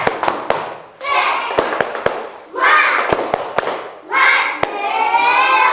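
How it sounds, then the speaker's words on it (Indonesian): A primary school class performs a rhythmic clap chant: sharp groups of hand claps in a set pattern alternate with loud bursts of children shouting in unison, close and lively in a classroom. "marilah kita tepuk semangat dulu supaya Ibu semangat"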